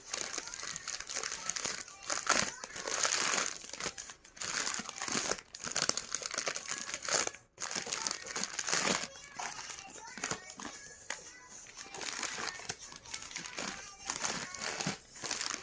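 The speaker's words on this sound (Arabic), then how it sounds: "لو انا محتاجه ان انا الزق ورق في بعضه، ان انا المه شويه بعمله." Paper is crinkled and crushed by hand while shaping a simple engagement bouquet, giving loud, close, repeated crackling bursts with brief pauses, with a voice talking in the background.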